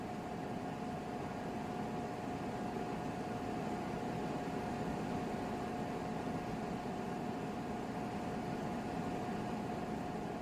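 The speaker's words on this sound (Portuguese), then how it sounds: "Aquele ventilador elétrico está funcionando e fazendo barulho." A steady electric fan hum fills a pavilion, constant broadband whir with a faint tonal drone, continuous and unchanging throughout.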